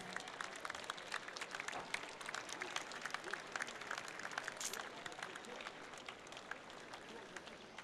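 Crowd at a harness racing track applauds a winning horse and driver heading to the winner's circle, scattered clapping spread across the stands with crowd murmur, fairly distant and steady, with a voice speaking over it.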